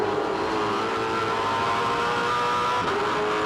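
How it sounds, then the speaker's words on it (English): A 2007 V8 Supercar at Pukekohe Raceway pulls hard off turn 5 and runs up through the gears, a loud, steady, close engine roar that stays dense throughout with a brief dip near the end as it shifts. "They launch off turn 5 in first gear, second, third, fourth."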